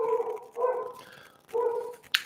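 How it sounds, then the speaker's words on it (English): A dog indoors at home gives a few whining, yipping barks in short bursts, fairly close and clear, with no speech over it. "This is my other dog that decided it wants to bark now."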